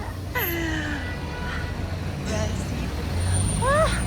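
Busy street traffic in Dubai's Al Satwa area rumbles continuously, with engines droning, tonal whines of passing vehicles and a rising squeal near the end, while a voice talks over it.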